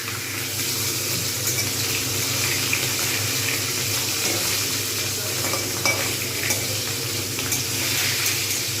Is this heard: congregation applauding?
no